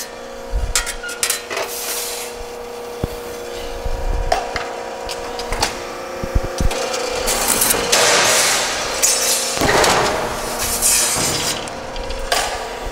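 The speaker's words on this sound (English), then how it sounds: "We'll go ahead and just cut a little material for you." An LVD JS25-13 hydraulic shear rated for 1/4-inch plate over 13 feet cuts sheet metal in a shop, with clanks from the hydraulic hold-downs, a humming motor and bursts of grinding, metallic shearing noise.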